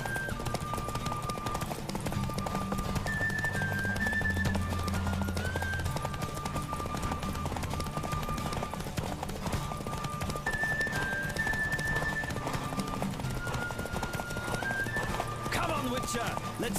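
Hooves clip-clop in a rapid, continuous galloping rhythm, with a horse whinnying near the end and music playing throughout, in The Witcher 3: Wild Hunt.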